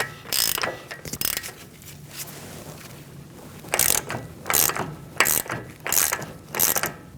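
A hand ratchet snugs an axle nut onto a 2002–2006 Toyota Camry, clicking in uneven bursts of rapid pawl ticks separated by pauses, close and fairly loud with no talking.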